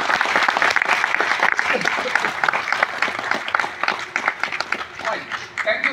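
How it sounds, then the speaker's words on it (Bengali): A large audience gives loud, sustained applause to honor Atomy India's diamond master at a corporate event, dense clapping filling the whole stretch with a few voices mixed in. "ওনার জন্য অনেক জোরে হাততালি"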